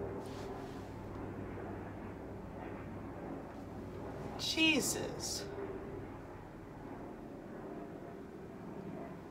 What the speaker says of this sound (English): That plane or helicopter or whatever aircraft it is was too low to the ground to be making all that noise.